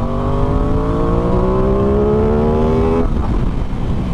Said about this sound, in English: Give it some gas, give it some beans.